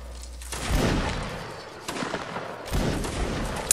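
Musket lines fire in a video game battle, loud rolling volleys of overlapping shots cracking out in three waves, with a rumbling, crowded echo between them.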